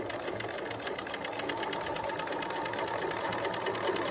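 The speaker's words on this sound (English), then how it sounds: "we will stitch all the way to the end of the seam binding tape" A sewing machine stitches seam binding tape along the edge of a two-color fabric mask, a steady continuous mechanical whir with a rapid needle rhythm running unbroken at moderate, close volume.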